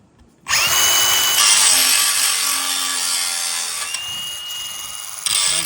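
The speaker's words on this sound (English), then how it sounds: "So we're gonna take the grinder," An angle grinder cuts through a stripped, rounded-off bolt on a boat trailer during an aluminum boat and trailer rebuild, a loud continuous high-pitched whine that starts abruptly and holds steady, with pitch shifts as the disc bites into the metal.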